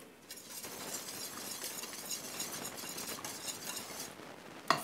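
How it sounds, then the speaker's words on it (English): Pounded yam flour is tipped into a skillet, giving a soft continuous sifting hiss with light scraping, ending in a sharp clink. "The flour goes in."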